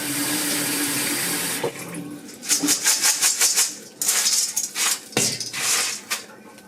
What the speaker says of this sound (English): it looks like the water is coming out crystal clear now